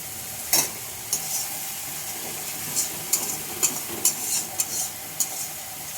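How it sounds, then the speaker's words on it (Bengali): Onion paste frying slowly over a low flame for a catla fish curry, a steady soft sizzle with intermittent scraping stirs and small clicks, close and without speech. "পেঁয়াজ বাটাটা লাল লাল করে ভেজে নেব। একদম লো ফ্লেমে আস্তে আস্তে করে ভাজতে হবে"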